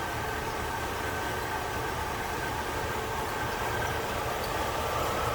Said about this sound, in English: And here it is, original engine to this car. 401 nailhead.